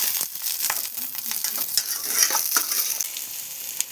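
Onions with curry leaves and coriander sizzle steadily in a hot pan while a utensil scrapes and stirs them every so often, with no voices.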